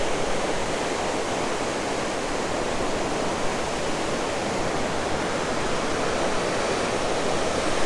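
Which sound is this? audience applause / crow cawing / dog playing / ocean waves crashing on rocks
ocean waves crashing on rocks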